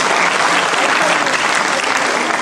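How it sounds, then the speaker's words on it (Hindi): A hall audience applauds at a Cancer Survivors Day event at a cancer hospital in Jaipur: dense, steady clapping from many hands, close and loud, filling the whole stretch without a break. "मैं चाहूंगा कि आप सब लोग मुझे तालियां दें।"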